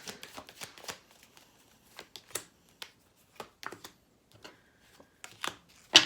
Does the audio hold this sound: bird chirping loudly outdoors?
no